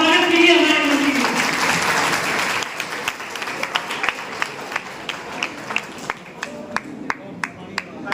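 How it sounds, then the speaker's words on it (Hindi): A crowd at a political rally in Firozabad claps loudly in welcome, a dense wave of applause that thins out into scattered, separate claps near the end, with talk over the start. "एक बार जोरदार तालियों के साथ स्वागत कीजिए हमारे मंत्री का।"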